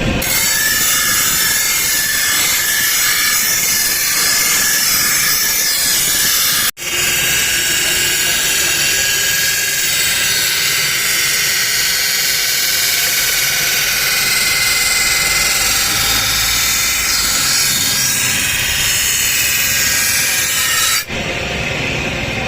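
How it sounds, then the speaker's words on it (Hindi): A hard blade being sharpened on a grinder, a loud continuous harsh grinding hiss that runs unbroken apart from one brief interruption, close up with no speech over it. "दोस्तों इसी तरीके से पूरे ब्लेड में धार लगानी है आपको।"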